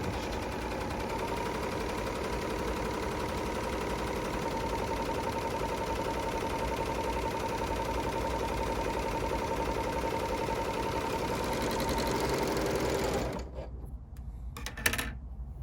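Bernina L850/L890 overlocker sewing with differential feed set to 1.5, a steady rapid mechanical whir humming close by for about thirteen seconds before stopping abruptly, followed by a few faint clicks.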